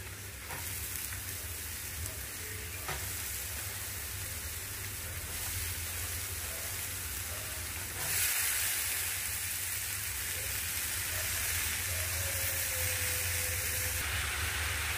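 Sliced ash gourd goes into a hot pan and fries with a continuous hiss and sizzle that swells louder partway through, close and steady over a low background hum, with no voices.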